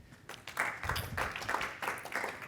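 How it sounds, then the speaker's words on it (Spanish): Audience applause opening a Spanish-language tech presentation on multimodal search, clapping that swells in after a quiet moment and continues in uneven bursts at moderate loudness. "le damos un aplauso para que comience la presentación"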